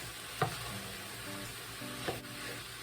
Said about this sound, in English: Let's stir those hash browns in.